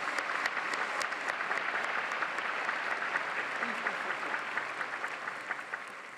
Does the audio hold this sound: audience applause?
yes